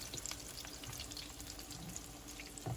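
Peppers hit a hot pan just used for browning sausages, giving a steady, dense sizzle and crackle that runs on without pause, close and fairly loud.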